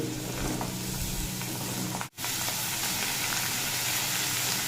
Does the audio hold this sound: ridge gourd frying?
yes